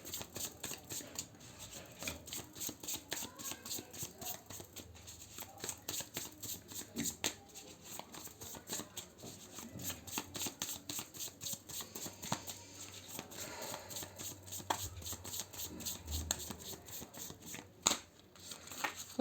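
Tarot cards are shuffled in a steady run of soft, rapid riffling and flicking close by, continuing quietly with no voices over it.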